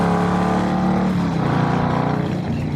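A hot Harley Evo motorcycle engine revving hard at wide open throttle, a loud, steady, close-up roar with its pitch sliding slightly lower toward the end.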